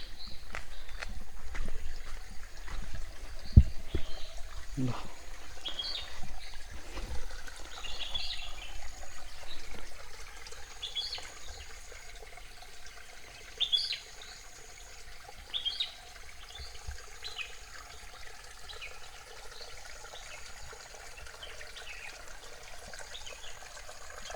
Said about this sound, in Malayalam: ഈ ചോലവനത്തിനുള്ളിൽ ഒരു ചെറിയൊരു അരുവിയുണ്ട്,